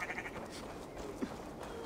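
Sheep bleating in a fantasy video game world event, a faint, brief bleat over a busy, noisy game soundscape with no talking.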